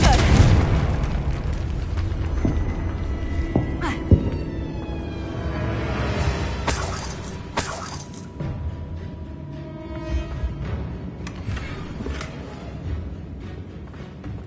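Confringo fire spell explosion in Hogwarts Legacy, a loud booming blast that rolls into a long rumbling decay under game effects.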